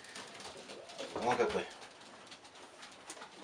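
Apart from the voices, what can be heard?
young pigeon cooing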